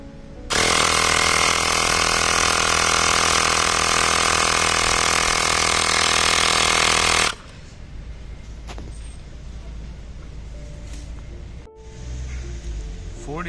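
An electric air pump buzzes and rattles loudly as it inflates a Kukirin G2 Master scooter tire, a steady mechanical drone for several seconds before cutting off to quiet handling noises.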